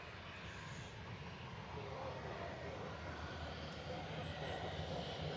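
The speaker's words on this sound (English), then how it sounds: "Ryanair departing now to Alicante," A Ryanair jet departing Manchester Airport for Alicante roars steadily in the distance, a broad rumbling engine wash that grows slightly louder over the seconds, with no talk.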